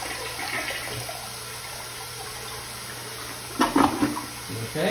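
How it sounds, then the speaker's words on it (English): Household toilet flushing in a main bathroom, a surging gush of water midway through, over a steady background hiss. "Let's flush the toilet."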